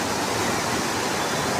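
Madhabkunda waterfall at Barlekha in Moulvibazar, Bangladesh, giving a steady, dense roar of falling water with no pauses and no voices.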